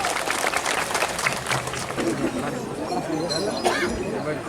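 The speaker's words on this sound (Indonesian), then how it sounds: "Mari kita berikan tepuk tangan kami meriah." An audience at a governor's working visit to Flores Timur applauds loudly and steadily, dense clapping mixed with crowd chatter and voices throughout.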